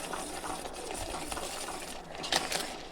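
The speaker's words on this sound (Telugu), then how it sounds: "మంచిగా దగ్గరికి వచ్చేదాకా ఇలాగనే కలుపుతూ ఉండాలి" Coconut milk sweet mixture being stirred steadily in a pan as it thickens, a continuous soft scraping and bubbling texture with a few brighter clinks near the end.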